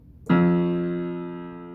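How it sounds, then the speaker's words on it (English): A single sustained voiced tone with a buzzy, rich harmonic texture, like lips fluttering on one held pitch, starting abruptly and fading slowly. "So lip trills, it's gonna sound like this."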